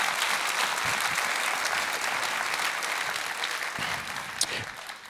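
A church congregation applauds after a sermon point, a full, continuous roar of clapping that stays even throughout and thins slightly near the end.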